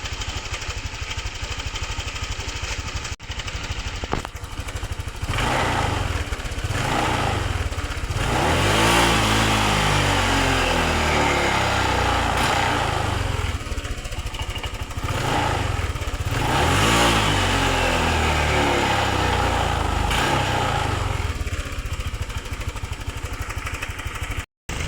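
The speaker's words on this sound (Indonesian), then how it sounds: "Digas full mentok motor mati." A motorcycle engine is blipped repeatedly in rising and falling revs, then held wide open, and the engine cuts out at the very end; loud and close throughout, no voices.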